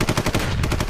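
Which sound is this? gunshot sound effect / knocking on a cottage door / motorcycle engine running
gunshot sound effect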